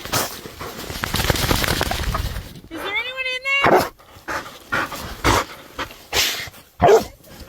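A dog in an avalanche rescue training setting gives several short barks and yelps at irregular intervals, with a rising whine in between, following a stretch of loud, muffled noise.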